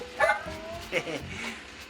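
A dog in a cartoon gives two short yipping barks, one near the start and one a bit later, over quiet background, with someone talking around them.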